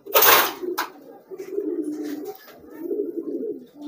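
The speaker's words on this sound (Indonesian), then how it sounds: "Nih ada merpati kolong juga." Feral pigeons giving soft, low, repeated coos near the microphone, opened by a brief louder flutter or scuffle.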